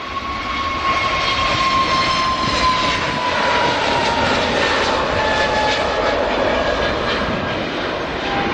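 Airbus Neo jet airliner departing from Edinburgh Airport, a loud sustained engine roar carrying a steady high whine that slowly falls in pitch, heard alone without talk.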